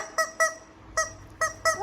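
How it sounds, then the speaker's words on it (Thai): A toy chicken gives five short, squeaky honking clucks in an uneven rhythm, close and fairly loud, with quiet room noise between them. "หนูชอบเสียงไก่"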